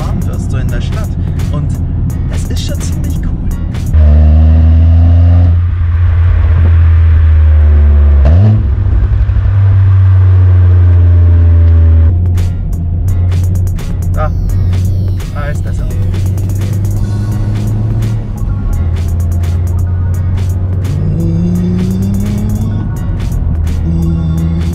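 Alfa Romeo 147 1.6 four-cylinder engine hums low and steady from the cabin, swelling loud through a few rises in revs early on, then droning more quietly, with one later climb in pitch.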